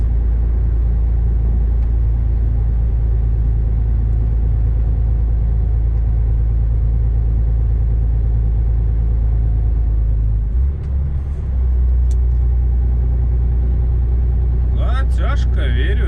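A car engine rumbles steadily as the car drives along a straight road, with a loud low drone throughout and a brief bump partway through; a voice talks over it near the end.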